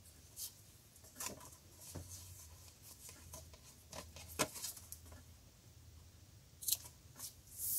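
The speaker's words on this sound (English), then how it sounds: "Now I'm just going to cut my tails off nice and close." Small scissors snip tatting thread tails close to the work, several quiet, irregular crisp clicks spread over several seconds, faint and close up with no talk.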